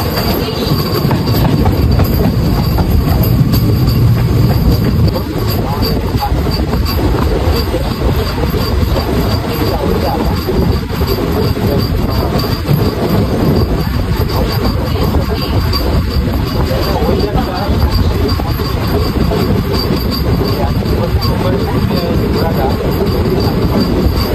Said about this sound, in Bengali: ট্রেন ঢুকছে কিন্তু জয়চণ্ডী পাহাড় জংশনে কিন্তু